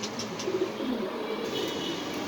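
Dragon pigeons, a pair from Indonesia, cooing at a pigeon farm in Mirpur, with soft, repeated low coos close by over a steady background hum.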